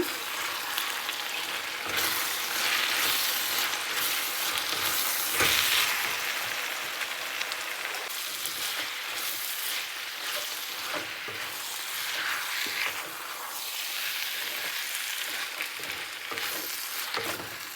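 Spices and turmeric being stirred and mixed in a frying pan, a steady close sizzle with scraping spoon strokes throughout, no voices over it.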